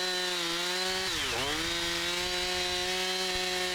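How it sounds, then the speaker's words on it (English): A chainsaw fitted with a regular crosscut chain, not a milling chain, cuts through a spalted maple log. It drones steadily and loudly, and the pitch dips briefly as the bar bites deeper before the engine recovers. "here I got the chainsaw out of the mill, and I'm going to try and cut through"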